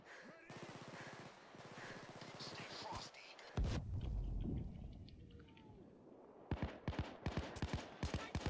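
Flashbang grenades exploding amid gunfire in the video game Payday 2: rapid shots crackle first, then a loud booming blast lands mid-clip, followed by sharp scattered gunshots, with a voice talking at times.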